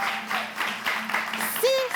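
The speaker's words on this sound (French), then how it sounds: "peut encore applaudir, s'il vous plaît, ce groupe magnifique" Audience clapping for a singing group at a Christmas Eve comedy show, a sustained patter of many hands behind someone talking over it, ending with a brief tonal whistle-like squeal.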